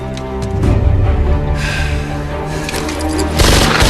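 Gunfire and loud booms from an action film, dense and continuous, layered with music and effects and peaking again near the end.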